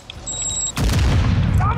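In Call of Duty: Modern Warfare 2, a tense moment suddenly gives way to a loud, close frag grenade blast and a burst of gunfire that keeps rumbling to the end.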